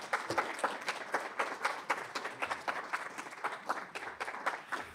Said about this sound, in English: Again, if we can give just one more round of applause for ReShonda Tate.